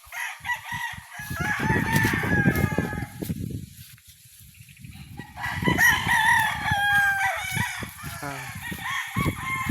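A banded gamecock rooster crows loudly and close, two long drawn-out calls separated by a brief pause, with clucking and other fowl around and faint voices in the background.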